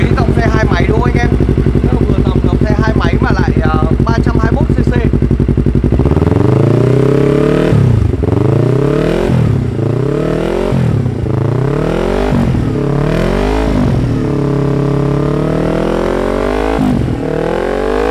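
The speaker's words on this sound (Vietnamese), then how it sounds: "rồi mình cho anh em nghe thử cái tiếng của con R3 2020 lên Po Akamovic nhé" A 2020 Yamaha R3 motorcycle fitted with a titanium header and Akrapovic racing exhaust idles steadily, then is revved hard about seven times in quick blips, loud and close.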